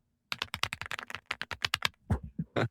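Typing on a new keyboard whose keys sound like an old manual typewriter: a rapid run of sharp, close clacking keystrokes, then a brief pause and a few heavier, separated strikes, with no talk.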